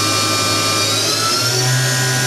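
A Doosan DNM-400 vertical machining center spindle spinning at high speed, a steady loud mechanical whine with a dense tonal hum that shifts slightly in pitch partway through, with no voices.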